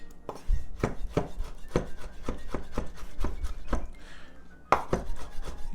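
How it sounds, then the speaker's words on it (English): A knife chops tomatoes into squares for concasse on a cutting board. Crisp thuds fall in an uneven, steady rhythm at about two per second, close and distinct, with a brief pause before the chopping resumes. "And then we're going to cut them into squares, essentially."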